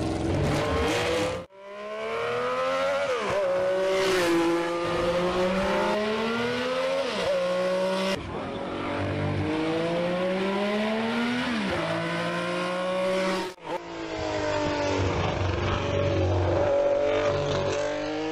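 A Laverda four-stroke motorcycle engine revs loud and close, repeatedly climbing and dropping in pitch through several throttle sweeps, with brief cuts between runs and no talking.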